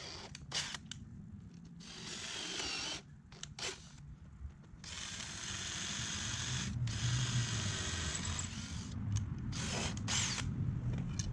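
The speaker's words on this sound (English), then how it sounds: "start to drill the holes to match the holes drilled in the wood" Bursts of a whirring power drill boring holes into a wooden door threshold, starting and stopping several times with short pauses between runs.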